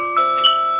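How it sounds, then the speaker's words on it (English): An alarm goes off with a steady, sustained electronic tone, fairly loud and unbroken for the whole moment, with no talking. "That's my alarm."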